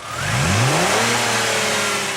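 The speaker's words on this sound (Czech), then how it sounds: "K přednostem motoru patří krásný zvuk" A Saab 900 Sportcombi's turbocharged petrol six-cylinder engine, 206 kW, revs up hard, pitch sweeping upward then holding at a loud, throaty drone for a couple of seconds.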